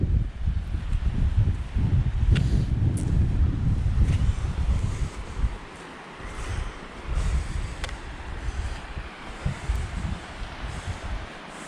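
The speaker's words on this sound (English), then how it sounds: "the wind's definitely picking up" Strong wind gusts over open Dartmoor moorland, roaring loud and continuous into the microphone with heavy low rumble, easing slightly partway through before building again.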